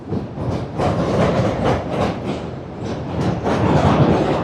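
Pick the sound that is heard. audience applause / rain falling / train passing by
train passing by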